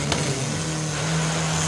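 Turbo C category drag racing cars launching off the line at an Amazonas drag racing championship, a loud, sustained engine roar with a steady droning pitch throughout.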